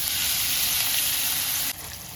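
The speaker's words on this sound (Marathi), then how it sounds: "त्याच्यात मोहरी टाकायची, जिरे टाकायचे थोडेसे, थोडं हिंग टाकायचं आणि थोडी हळद टाकायची आणि हे घरी केलेलं पनीर आहे ते टाकायचं" Mustard seeds, cumin, asafoetida, turmeric and homemade paneer sizzle steadily in hot oil, a close, loud, continuous frying hiss that drops slightly in level near the end.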